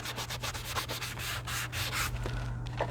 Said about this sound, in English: I'm also taking my sanding block because I'm going to be gluing onto this